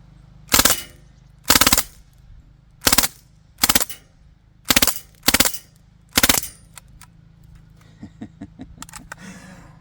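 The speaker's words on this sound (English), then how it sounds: "Let's do some full auto." A Crosman R1 DPMS SBR airsoft rifle with a custom gas piston fires several loud, close full-auto bursts of rapid cracks with short pauses between, followed by a few quieter clicks and rattles.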